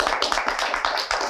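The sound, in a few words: audience applause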